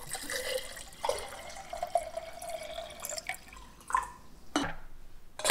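Water being poured into an electric tea kettle for brewing loose-leaf green tea, a splashing, gurgling fill with irregular drips and bursts, close by with no talking.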